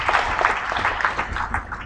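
Audience applause at an engineering society investiture ceremony, a dense patter of many hands clapping at a steady level, with no voices standing out.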